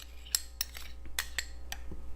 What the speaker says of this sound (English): You can stir all these ingredients together